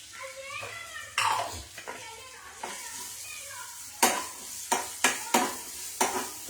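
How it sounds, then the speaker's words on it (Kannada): Sliced onion sizzles in hot oil in a pan, a low frying hiss punctuated by several sharp scraping stirs of a spoon against the pan, with someone talking in between. "ಈಗ ಈರುಳ್ಳಿ ಹಾಕೋತಾ ಇದ್ದೀನಿ."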